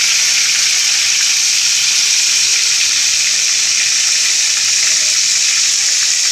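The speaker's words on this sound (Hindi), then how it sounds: "पैन में ऑयल गरम हो गया है और अब मैं बोटियों को डालने इसमें जा रही हूँ।" Chicken pieces for Afghani chicken hit hot oil in a pan, setting off a loud, steady, close hiss of frying that holds unbroken throughout.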